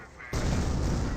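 An artillery barrage in the Company of Heroes video game bursts in after a short quiet moment, a sudden loud, dense rumbling roar that stays heavy and continuous to the end.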